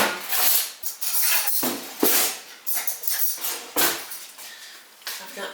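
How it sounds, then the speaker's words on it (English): A metal spoon is pulled from a kitchen drawer, with several sharp clinks and clatters of cutlery knocking together and the drawer rattling, close by. Speech is faintly present. "let me get a spoon and do a taste test"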